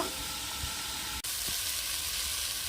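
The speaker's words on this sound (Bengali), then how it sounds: "চাপা দিয়ে দিয়ে আলু বেগুন আমি ভেজে নেব" Potatoes and eggplant fry in a pan, a close, continuous bright sizzle and hiss that stays steady throughout, with a brief dropout and a soft stir or tap but no talking.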